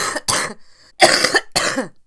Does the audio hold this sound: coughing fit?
yes